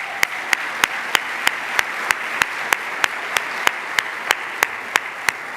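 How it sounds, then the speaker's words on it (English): Audience applause at a high school senior awards ceremony, a steady bed of clapping with one clap rising above it in a regular, evenly spaced beat, moderately loud throughout. "So let's give them a round of applause."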